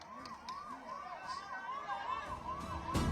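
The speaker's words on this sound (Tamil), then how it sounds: "இன்னொரு நம்ம ஆம்புலன்ஸ் இன்னொன்று வருதுப்பா" An ambulance siren wails in a steady rising-and-falling pattern through a busy outdoor election rally crowd in Dharmapuri, with murmuring people and a voice over a loudspeaker, the siren holding at moderate loudness throughout.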